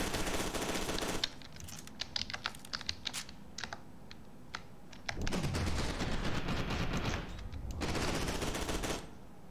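Enemy gunfire in the video game FEAR 2 comes in loud automatic bursts that are close and harsh. A quieter stretch in the middle is broken by scattered single shots.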